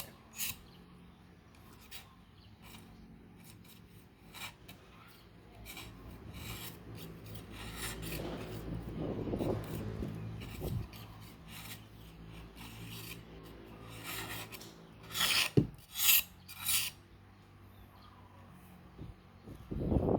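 Steady rasping scrapes of a knife shaving along bamboo strips, continuous and close, with a few sharper louder strokes near the end.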